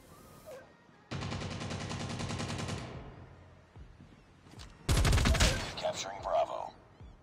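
Gunfire in the Call of Duty Mobile video game: a sustained burst of rapid automatic fire, a short pause, then a second louder burst followed by scattered shots and impacts.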